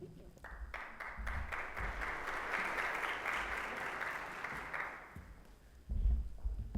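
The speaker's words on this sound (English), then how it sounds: "let's give this panel one more round of applause" A conference audience applauds a panel at a Columbus Metropolitan Club forum on women's health, the steady clapping swelling to a full round and then tapering off before a voice picks up again.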